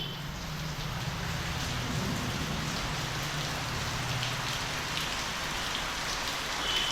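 Heavy rain pouring steadily at an outdoor pilgrimage rest area, a dense continuous hiss of drops on surfaces holding an even level throughout, with a faint low hum underneath and no talking.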